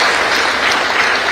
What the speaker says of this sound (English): I really want you to give them a round of applause